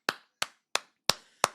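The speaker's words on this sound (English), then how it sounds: "Give him a round of applause." Five sharp, evenly spaced single claps ring out one after another at a steady beat, each crisp and close, with a short decay and silence in between.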